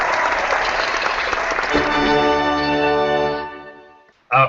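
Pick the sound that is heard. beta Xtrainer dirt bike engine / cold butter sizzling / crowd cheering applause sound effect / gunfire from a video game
crowd cheering applause sound effect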